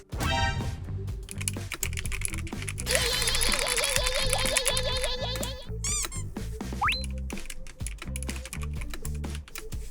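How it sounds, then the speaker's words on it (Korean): Rapid keyboard typing under a busy, music-like background with chirpy squeaks and tones; clicks continue throughout, fairly close. "타이핑 소리 좀 작게 해주세요."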